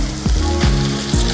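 Tempering with turmeric sizzling in hot oil, a loud close crackle and hiss that pulses with three brief stirring sweeps across the pan.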